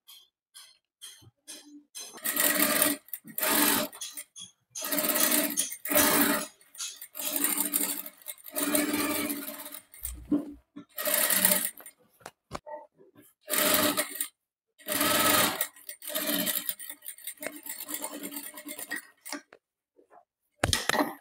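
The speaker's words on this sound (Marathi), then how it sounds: "आता शिलाई मारून घ्यायची कडेने." A sewing machine stitches along the piping edge of a boatneck blouse, sounding in repeated loud bursts of rapid mechanical chatter separated by brief pauses.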